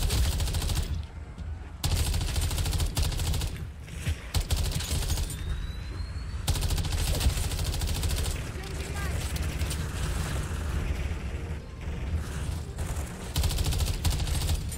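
Gunfire in Modern Warfare 3 Zombies during the Dr Jenson extraction mission, dense loud bursts running nearly throughout with brief gaps, a voice talking over parts of it.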